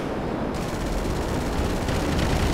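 Heavy, continuous gunfire from a military video game, a dense unbroken roar of shots with no gaps, loud and close throughout the short stretch.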